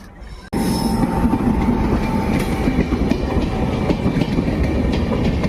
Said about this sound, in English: Machilipatnam Express is coming into Anantapur railway station.